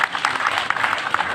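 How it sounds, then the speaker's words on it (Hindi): Audience applause in a hall at a water literacy event, a short burst of dense clapping that sustains steadily throughout without talk over it. "बजाइए ताली"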